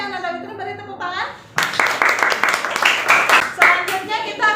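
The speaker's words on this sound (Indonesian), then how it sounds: "beri tepuk tangan" Classroom of students clapping for a classmate, a burst of brisk, fairly close hand claps that starts suddenly after a teacher's voice and continues steadily with children's voices mixed in.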